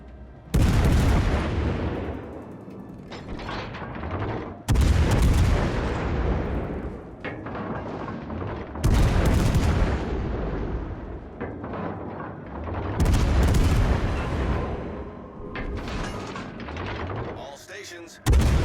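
Heavy naval guns of the USS Des Moines cruiser fire in a naval video game battle, four loud booming salvos spaced a few seconds apart, each rolling out into a long decaying rumble.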